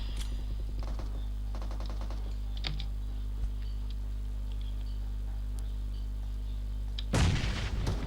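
A grenade goes off in the video game PUBG as a sudden loud blast near the end, after scattered keyboard clicks and quiet game ambience with no talk.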